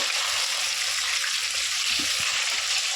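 Green fish fry sizzling in a pan of hot oil with coriander, curry leaves, cumin and ginger, a steady dense crackling hiss that stays loud and close throughout, with a couple of soft low bumps underneath.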